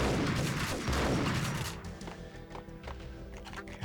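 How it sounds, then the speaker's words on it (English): A grenade launcher and gunfire in the video game Max Payne, a loud burst of blasts and explosive rumble at the start that fades into quieter clatter and scattered shots. "Some jackass has got a grenade launcher."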